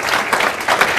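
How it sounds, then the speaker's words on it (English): Audience applause following a keynote session at a development conference, a steady crowd clapping that swells in two brief surges, moderately loud and close with no voices over it. "Frank deserves a big round of applause"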